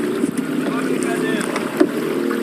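Oars working a non-racing boat on the waters of Porto Alegre, a steady wash of water with soft splashes and a sharper stroke near the end, under continuous wind-like noise.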